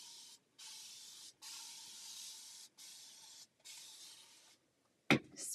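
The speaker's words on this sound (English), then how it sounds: "Spray it down." A handheld spray bottle mists fabric before ironing, giving five even hissing bursts of about a second each with short pauses between, close and soft, followed by a sharp brief clack at the end.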